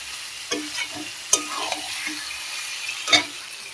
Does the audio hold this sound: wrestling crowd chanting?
no